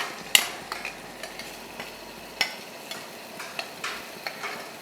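Masala and green peas roasting in hot oil for mulangi pulav, with close, irregular scraping taps of a stirring spoon over a soft, steady sizzle.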